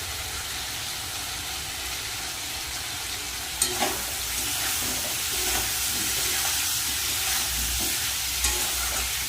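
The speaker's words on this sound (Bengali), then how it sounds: "মশলাটা ভালো করে কষিয়ে নেব" Spice paste fried and stirred in a pan for a Bengali thin fish curry with bata fish and eggplant, a steady close sizzle with scraping stir strokes breaking through now and then.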